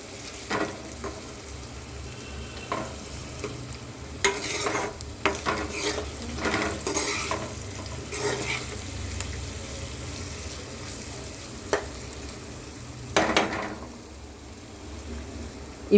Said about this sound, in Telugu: ఇలా కలుపుకొని ఉల్లిగడ్డలు ఏగాయో లేదో చెక్ చేసుకోవాలి.